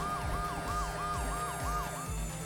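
Repeating wail siren from a police-style car in the Horizon Chase Turbo racing game, cycling steadily about every half second over a rumbling engine and game music, loud and continuous.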